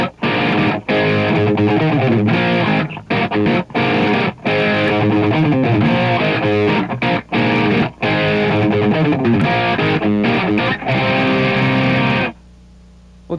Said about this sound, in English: I've turned the reverb off and turned a lot of the chorusing on to get this sound